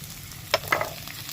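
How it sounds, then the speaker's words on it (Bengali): Potatoes and carrots frying in a pan, a soft continuous sizzle with two or three brief clinks of a spatula against the pan, close by and without voices. "আলু আর গাজরটা দেখো অনেকটাই ভাজা হয়ে গেছে"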